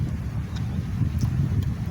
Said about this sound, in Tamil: காற்று இந்த வாட்டி அதிகமாக அடிக்குதுங்க.